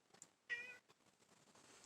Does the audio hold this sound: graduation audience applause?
no